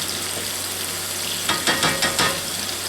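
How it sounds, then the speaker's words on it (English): Mushrooms brown in a pan over raised heat for sausage and mushroom risotto. A soft steady sizzle is joined by a short burst of stirring and scraping near the end. "I turned the heat up to brown the mushrooms"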